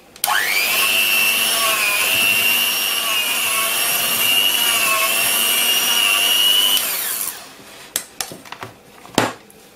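An electric mixer kneads brioche dough, giving a loud, steady whine that runs for several seconds before cutting off, followed by scattered clanks and knocks of bowl and utensils.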